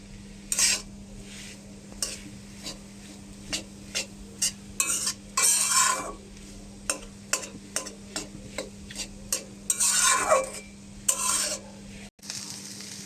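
Spicy potato laddu filling stirred in a pan, a rhythmic series of spoon scrapes and knocks against metal over a soft sizzle and faint steady hum.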